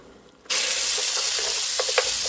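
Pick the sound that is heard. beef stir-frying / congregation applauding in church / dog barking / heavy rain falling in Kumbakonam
beef stir-frying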